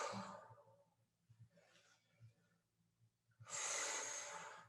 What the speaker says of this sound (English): we're going to do 3 more big breaths